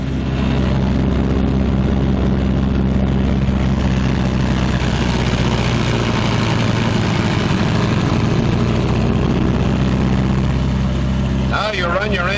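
Twin radial engines of a Martin B-26 Marauder bomber are run up on the ground, a loud, steady, throbbing drone that holds throughout with rising intensity, joined by a brief whine near the end.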